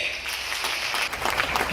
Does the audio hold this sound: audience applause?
yes